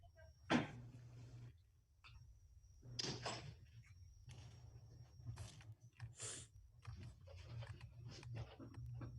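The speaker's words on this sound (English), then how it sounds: "I'll close my door so Megan doesn't have to listen to me." An office door is handled and pushed shut, a series of faint clicks, latch rattles and knocks in a quiet room with a low background hum.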